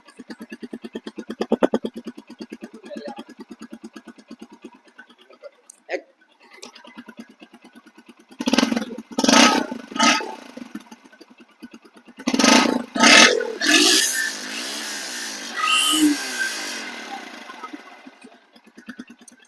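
Close-up engine sound from a 2025 Bajaj Pulsar 125cc motorcycle with a short muffler: a steady idle pulse followed by repeated loud throttle blips and revs that rise and fall, with a few brief knocks between them.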